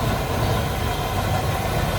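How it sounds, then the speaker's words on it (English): A 1957 Pontiac Star Chief convertible's engine idles smoothly and evenly up close, a low, steady rumble with no voices. "So you can see how smooth that engine's running."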